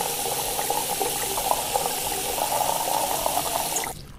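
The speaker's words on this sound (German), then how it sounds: "Dann machen wir erstmal hier 2 Liter Wasser rein." Water pours steadily into a pot in the Cooking Simulator video game, a continuous splashing rush that stops abruptly near the end, with no talk.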